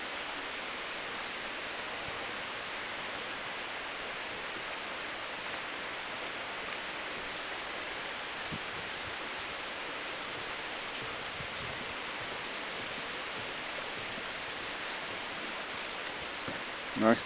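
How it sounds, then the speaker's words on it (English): Gentle rain falling over gardens, a steady soft hiss of drops that stays even throughout, with a brief louder bump at the very end. "Nice gentle rain for our gardens here."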